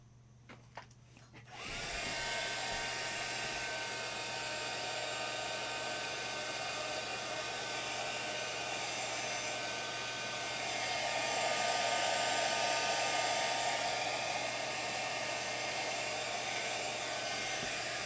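A heat tool switches on with a click and then blows a steady, loud whirring hiss while heating ink on a stamped card for metallic embossing. The tone shifts slightly partway through and no one talks.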